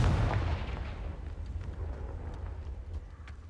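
The Confringo blasting spell in the Hogwarts Legacy video game lands as a deep booming blast that decays into a low rumbling tail over a few seconds, with no talk over it.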